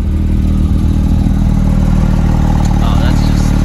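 A Porsche 911 GT3 exhaust, loud and rumbling, drones steadily with low-pitched roar, close by, slightly rising in pitch toward the end as it revs.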